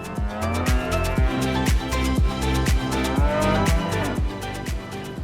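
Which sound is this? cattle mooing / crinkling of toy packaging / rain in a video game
cattle mooing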